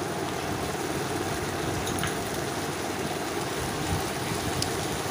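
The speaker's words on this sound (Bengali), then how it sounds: "সসটা বেশ সুন্দরভাবে ভেজে নিচ্ছি" A sauce that was mixed in water fries in a pan for Bengali egg chilli, producing a steady, dense, close-up sizzling hiss that holds evenly for several seconds with no talking over it.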